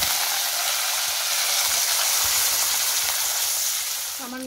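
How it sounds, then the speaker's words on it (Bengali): Onion and capsicum fry in a pan for a chilli paneer dish, giving a steady, close sizzling hiss that holds evenly throughout and fades slightly at the very end. "এবারে পেঁয়াজটা ক্যাপসিকামটা মোটামুটি খুব ভালো করে ভাজবো।"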